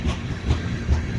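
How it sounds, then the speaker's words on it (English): A train rolls past close by on a cold day, a loud rumbling roar with a rhythmic clickety-clack of wheels on the rails. "Train action. I do like a good train."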